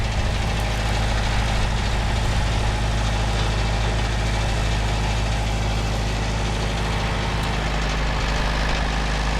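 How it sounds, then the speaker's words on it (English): A farm tractor idles while hitched to a trailer, giving a loud, steady low diesel rumble that continues unbroken and close by throughout. "Hopefully you can hear me over the tractor"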